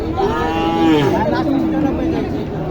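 A year-and-a-half-old Sahiwal bull calf moos in one long, loud, drawn-out call, close by at a cattle sale.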